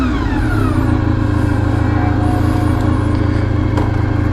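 A 1994 Honda RVF400 sports motorcycle engine runs steadily and loudly up close, a dense continuous drone with rising revs, and no talk over it.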